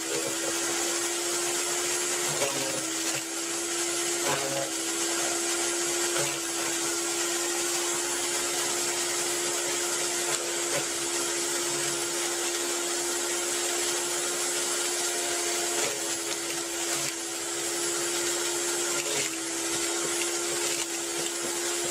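LUX garden branch shredder with collection bin running continuously, a loud steady motor whine with a constant high tone and faint periodic knocks, close up, with no talking.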